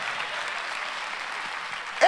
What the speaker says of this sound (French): Bah l'Éternel un applaudissement pour ça.